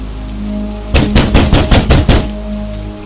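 Steady rain hisses throughout an animated cartoon scene, broken midway by a quick series of about seven loud knocks on a door.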